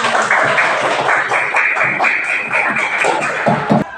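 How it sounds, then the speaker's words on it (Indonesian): Loud applause from a classroom of students, dense clapping mixed with children's shouts and voices throughout. "Tepuk tangan buat kita semua."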